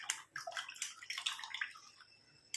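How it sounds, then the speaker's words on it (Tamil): Tap water splashes and trickles inside an iron kadai pan being rinsed in a kitchen, in quiet irregular bursts of sloshing and dripping, close and with no talking. "இப்போ நம்ம இந்த இரும்பு கடாயை நல்லா வாஷ் பண்ணிக்கலாம்."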